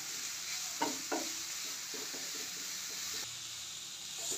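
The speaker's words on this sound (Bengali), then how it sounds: "এবার গ্রেট করে রাখা গাজরটা দিয়ে দিচ্ছি ভেজে নেবার জন্য" Grated carrot sizzling in a pan on low gas heat, a steady close hiss with a few soft clinks of stirring near the start.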